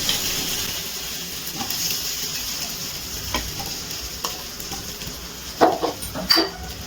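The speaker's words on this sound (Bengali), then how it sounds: "ভেজে রাখা আলুগুলো দিয়ে দিচ্ছি।" Fried potatoes tipped into a pan of spice paste that has been cooked down, giving a steady close sizzle with stirring scrapes and a couple of sharper clatters near the end.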